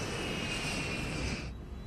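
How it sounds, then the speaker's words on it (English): Steady, loud roar of a cargo airplane's engines as it accelerates down the runway on takeoff, a continuous broadband rush with a thin high whine that drops away near the end. "As the plane accelerates down the runway, airspeed increases"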